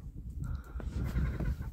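A newly bought flock of about 25 white hens clucks faintly in a brief, quiet burst of soft fowl chatter close by.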